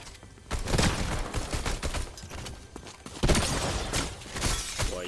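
Gunfire in the Fortnite video game rattles in dense, repeated bursts that run the whole way through, loud and near, with a sharper volley near the middle.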